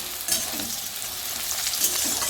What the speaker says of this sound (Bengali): চলো এটা ভাজা ভাজা করে নেব